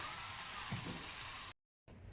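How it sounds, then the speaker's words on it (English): Steady bright sizzling of marinated lamb saddle frying in a hot pan, continuous and close, briefly cutting to silence near the end. "So you see this sizzling sound, that means your meat is getting perfect."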